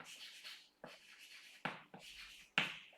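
A pen writing a name on paper, close and fairly quiet, heard as several short scratchy strokes separated by brief pauses.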